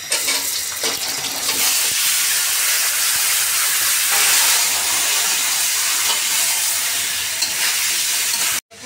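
Meat sizzling and frying in a pan with whole garam masala spices while cooking pulao for a celebration meal, a steady loud hiss running continuously with faint stirring, then cutting off abruptly near the end.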